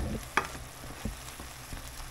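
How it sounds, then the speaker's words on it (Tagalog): Soft bubbling and sizzling from a pot of pork belly simmering in boiling water, with a few quiet clinks and stirring sounds, faint and close. "Kumukulong-kulo yung tubig at madadry na siya"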